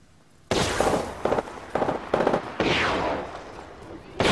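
Video game gunfire from Apex Legends, a run of loud, close shots and bursts in uneven clusters after a quiet start.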